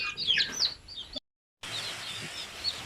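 Newly nested Zampen native chicken chicks chirp in a coop, with high, quick peeping bursts up close, then a brief silent gap before fainter chirps continue.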